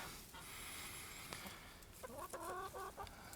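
Hens clucking on a snowy farm, a run of close, rhythmic clucks and a brief call over faint background noise, with no talking.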